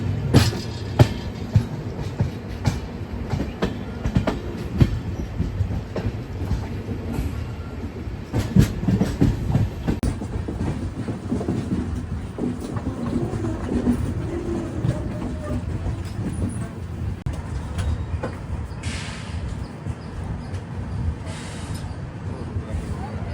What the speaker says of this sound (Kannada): ಕರ್ನಾಟಕ ಸೂಪರ್ ಫಾಸ್ಟ್ ಎಕ್ಸ್ಪ್ರೆಸ್ ಈಗ ಎಂಟ್ರಿ ಆಗೈತೆ ರೀ ನವದೆಹಲಿ ಬೆಂಗಳೂರು ಸತ್ಯಸಾಯಿ ಪ್ರಶಾಂತಿ ನೀಲಂಗೆ